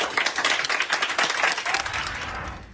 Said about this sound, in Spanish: Así, entre aplausos y porras